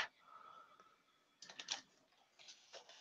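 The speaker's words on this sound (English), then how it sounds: "I can hear you typing." Keys being typed on a computer keyboard in a quiet room, faint and irregular at first, then a few louder bursts of clattering keystrokes in quick clusters.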